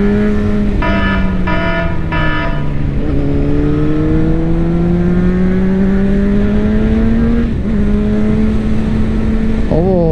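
A 2007 Honda CBR 600 RR motorcycle exiting a corner, with a few quick throttle blips up front before the engine pulls in a long steady rising drone, the revs dipping and climbing again toward the end under wind noise.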